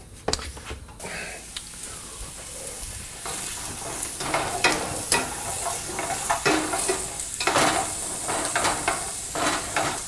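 Green peppers and onions sautéing in a pan, a continuous close sizzle with repeated stirring scrapes and clatters of the utensil, no talking.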